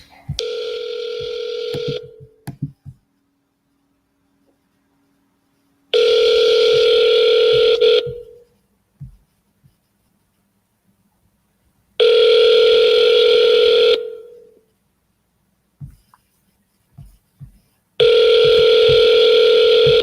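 A telephone call tone sounds in steady two-second bursts, repeating four times with silent gaps between. Faint clicks and handling noises fall in the pauses.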